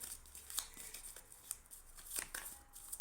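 Soft, papery riffling and brushing of tarot cards being shuffled, quiet and close, with a few crisp snaps amid steady low rustle.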